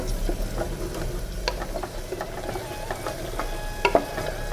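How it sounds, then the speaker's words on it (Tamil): A ground green paste is sautéed and stirred in a pan for a Tamil lunch recipe, a soft sizzle under repeated scraping and tapping strokes of the spoon, close and steady with no speech. "ரொம்ப நேரம் வதக்க வேணாம், கொஞ்சம் நேரம் வதக்கலாம்."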